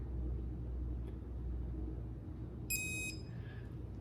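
An IPETS 618 training collar gives a short, faint electronic beep as it pairs, heard once amid low background rumble.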